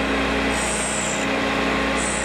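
A drill bit ground against a grinding wheel, a steady gritty rasp under a constant motor hum, with two brief high-pitched whines of contact.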